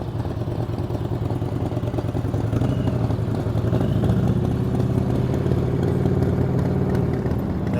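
A motorcycle engine runs at low, steady revs during slow-speed rodeo riding maneuvers, a continuous close rumble with clattering mechanical texture and slight throttle rises, no talking.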